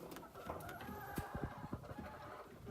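Chickens in a backyard winter coop, including an Americana hen and a rooster, give a run of short, close clucks in a steady rhythm over low barnyard noise.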